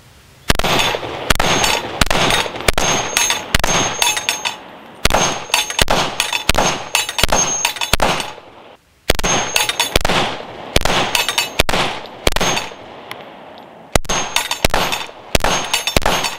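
A ported handgun fires 124 grain ball ammunition in rapid, loud strings of sharp shots with ringing clangs, broken into several bursts with brief pauses between them.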